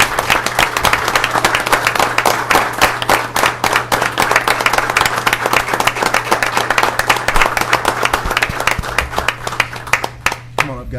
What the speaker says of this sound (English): I'd like everybody to stand and give a rousing round of applause to Trooper Miles Scott and Deputy Carol Morr